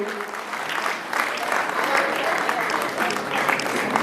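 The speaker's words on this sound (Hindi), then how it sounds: "श्रीमान जोरदार तालियों से इस बेटी का स्वागत करेंगे" Lively, sustained audience applause greets a girl honoured at the Basant Panchami fair in Kanvashram, Uttarakhand, a dense, even clapping that swells slightly after the first second, with a voice faintly underneath.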